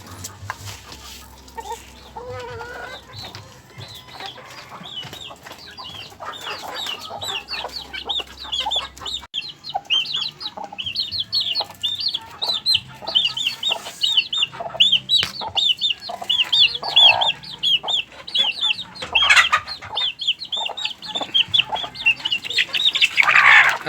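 Chickens and chicks on a small chicken farm, with steady clucking and high chick peeping that grows denser and louder toward the end, close by against a quiet background.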